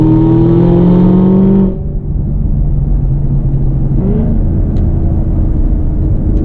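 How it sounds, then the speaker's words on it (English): A 2016 Cadillac CTS-V's supercharged V8 pulls hard from inside the cabin, a loud, deep rising drone with supercharger whine that drops abruptly at a shift, then settles into a steady rumble before climbing again. "That supercharged V8 gives you instant torque."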